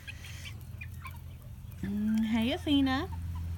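Bantam chickens and roosters in a mixed flock cluck and squawk nearby in a short rising burst, over a low steady background hum, with a person speaking briefly.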